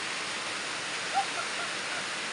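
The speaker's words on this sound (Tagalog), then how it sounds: "Interes kusog pang ulan." Steady, dense heavy rain hisses continuously without a break, a broad even wash of noise with one brief faint chirp partway through.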